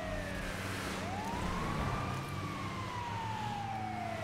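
A wailing fire truck siren in GTA 5 sweeps up and down in pitch, loud and close, over a steady low engine rumble from the game's traffic.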